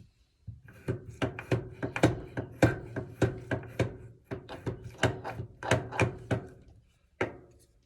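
Bassoon cane being shaved on a hand profiler, a series of sharp woody scraping strokes in an uneven rhythm, about fifteen close, distinct thunks and rasps with brief pauses between them.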